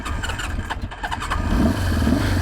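A 1976 Honda CB500 Four motorcycle on electric start catches and settles into a close, steady four-cylinder idle, the running engine growing slightly louder and fuller after about a second and a half.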